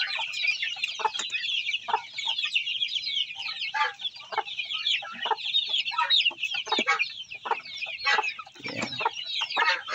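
A flock of about seventeen Rhode Island Red chickens in a backyard mini farm, clucking and chattering continuously at close range with overlapping calls throughout, no voices heard.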